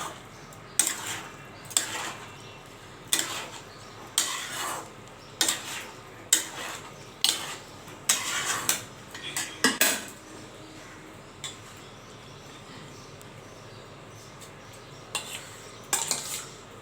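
Vegetable dalia khichuri stirred in a pot, with rhythmic clinks and scrapes of a spoon against the metal repeating roughly every second, close and distinct over a faint background, no talking.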